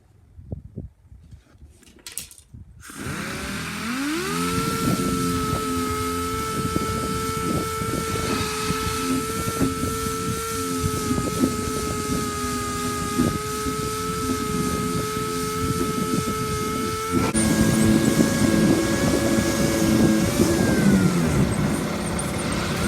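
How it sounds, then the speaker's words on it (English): An orbital sander with 120 grit works a spot rust repair on car paint, spinning up after a brief quiet start into a loud, steady motor whine and grinding drone that runs on and grows slightly louder near the end. "that's what I'm going to be doing with my orbital sander"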